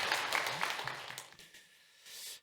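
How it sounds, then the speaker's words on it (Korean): Church congregation at a Wednesday service clapping to welcome a guest missionary speaker, a short burst of moderate applause that fades away within about a second and a half, followed by near silence and a soft breathy sound. "나오실 때 한 박수로 환영해 주시면 감사합니다."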